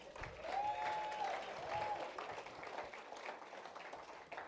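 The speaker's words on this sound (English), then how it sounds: "Can we give him another round of applause?" Audience applause at a business breakfast, a steady wash of clapping that holds for several seconds at moderate level, with a brief tonal whistle-like sound drifting over it early on.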